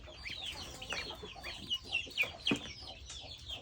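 Chickens cluck on a small mixed Thai farm raising ducks and chickens, with several short overlapping clucks and calls close by against a constant rustling farmyard background.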